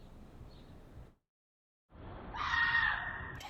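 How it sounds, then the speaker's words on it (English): Screaming from a news report recording of a neighbourhood terrorized by serial armed robberies in Washington, DC: a stretch of noise, a short silent gap, then a louder, shrill rising scream near the end. "Screams like this ripped through the Fairlawn community for months."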